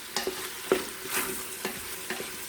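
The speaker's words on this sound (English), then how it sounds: "And we're going to give that a good stir." Garlic and ginger being stirred in an Instant Pot, with a soft frying sizzle and several short scraping taps of a spoon against the pot.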